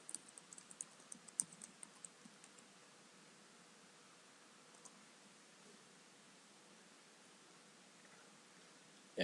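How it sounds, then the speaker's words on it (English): Quick, faint keystrokes tap on a computer keyboard as a search is typed into Google, clustered at first and then trailing off into quiet hiss. "now we're going to type in Jerusalem"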